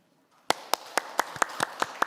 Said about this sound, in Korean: 토론자님께 큰 박수 한번 보내주십시오.